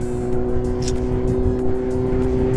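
A Kawasaki Z800 sports motorcycle riding ahead on the road, heard as a steady, loud engine drone with a strong low hum and wind rush throughout.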